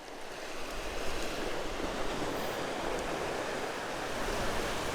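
Waves washing onto a beach on Tinian, a continuous loud roar of surf with wind across the microphone, steady and unbroken.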